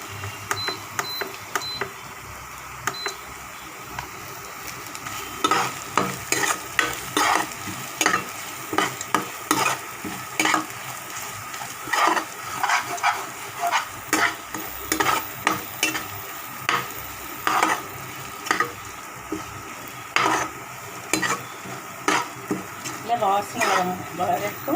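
Something being sautéed for adai, stirred in a hot pan over a simmer: a steady sizzle with repeated scraping stirs in a regular rhythm, close and fairly loud, with a little talk in places.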